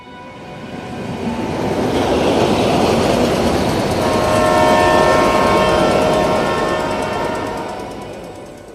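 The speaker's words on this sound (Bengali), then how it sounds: "প্যাসেঞ্জার ট্রেনটা তখন খুব জোরে চলতে আরম্ভ করেছে।" A passenger train gathers speed in a sound effect, its rumble swelling from faint to loud and steady, with a sustained horn-like tone in the middle before it fades slightly toward the end.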